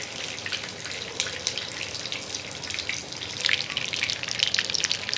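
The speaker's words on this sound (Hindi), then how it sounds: "दूसरी साइड से भी कबाब अच्छी तरह फ्राई हो गए हैं।" Chicken kebabs fry in a pan over a low flame, giving a steady, close, bubbling sizzle with fine crackling pops that grow slightly livelier toward the end, with no talk.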